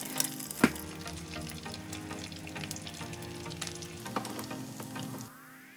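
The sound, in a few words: eggs frying in a pan over medium heat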